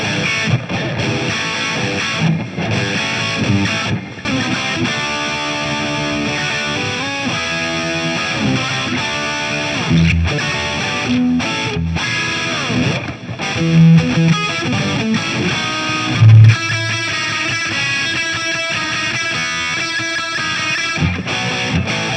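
A spalted maple EVH Wolfgang Standard Exotic electric guitar is played loud through its bridge pickup, boosted, with light reverb and delay from Electro-Harmonix effects, sustained distorted chords and riffs ringing continuously.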